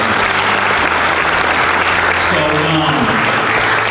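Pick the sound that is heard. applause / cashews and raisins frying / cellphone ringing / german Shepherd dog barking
applause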